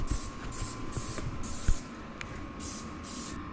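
Dry ice blasting rubber undercoating off a car's underbody for restoration prep, a steady loud hiss with bursts that swell and fade in pulses, plus a faint hum and a brief knock partway through.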